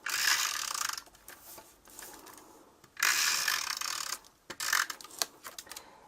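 Snail adhesive tape runner pulled along the four edges of a full-sized card front: bursts of fast ratcheting clicks about a second long, pausing and restarting, close and clear with no talk.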